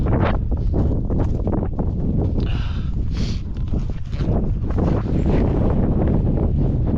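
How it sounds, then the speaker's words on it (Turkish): Strong wind on a descent of Sandras Mountain buffets the microphone in a continuous loud roar, with gusts rising and falling throughout. "Rüzgara da dikkat edin."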